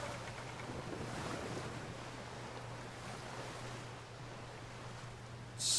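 Ocean waves and wind rush steadily during a long sailing-ship crossing in the video game Assassin's Creed 3, a broad continuous wash with no voices.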